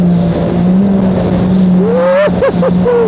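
A side-by-side buggy drives over rough, bumpy ground. The engine drones loud and steady up close, then its pitch rises and dips as the buggy crosses the bumps.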